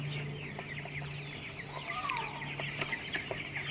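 Many 21-day-old Ross broiler chicks cluck and chirp steadily in a busy farm coop, over a low constant hum.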